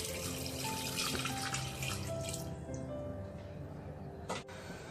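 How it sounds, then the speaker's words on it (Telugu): Milk pours in a steady stream into a pot of jaggery sweet pongal, a close gurgling splash that tapers off after a few seconds, ending with a soft clink. "పాలు వేసుకొని"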